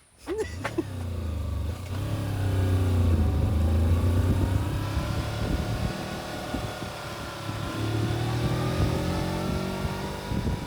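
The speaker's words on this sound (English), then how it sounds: "Now the Kawasaki has to start working much harder." A rented Kawasaki 250cc motorcycle carrying two riders and luggage labours on a jungle climb toward Mount Bromo, its engine note rising and holding under load, close and steady with shifting revs.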